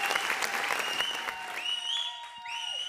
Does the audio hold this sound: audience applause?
yes